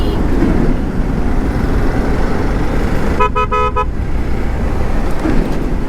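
A vehicle horn honks in a short burst of repeated toots amid steady road and engine rumble during a motorcycle ride through traffic, with no talking.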